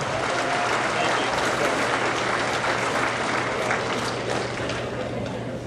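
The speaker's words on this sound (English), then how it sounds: "Give him a nice round of applause." Sustained applause from a banquet crowd at an auto racing awards dinner honoring a champion driver, dense and steady throughout with a low hum underneath and some voices mixed in.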